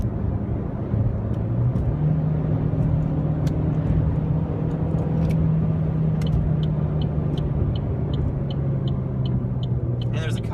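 Cabin sound of a 2014 Chevy Sonic LT cruising: a steady engine drone and road rumble with a brief pitch rise early on, plus faint intermittent ticking like a turn signal toward the end.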